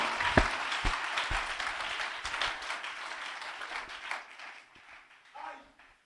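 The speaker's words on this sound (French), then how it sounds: "Let us give a hand clap to the Lord." A church congregation claps together, dense applause at first that thins and fades toward the end, with a few sharper individual claps standing out.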